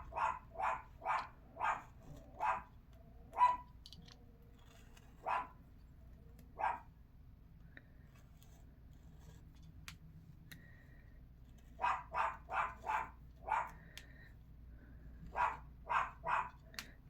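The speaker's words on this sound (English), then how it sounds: "My dogs are going to bark." Several dogs bark in repeated bursts in an indoor home setting, some quick runs of four or five barks and some single yaps, moderately near, with quiet pauses between.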